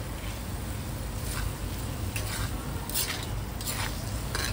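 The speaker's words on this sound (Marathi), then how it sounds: "मीठ टाकून आपण चांगलं पुन्हा एकदा परतून" Tomatoes sautéing with salt in a pan, with a steady soft sizzle and a few light scrapes of a spoon stirring against the metal, close and continuous with no talking.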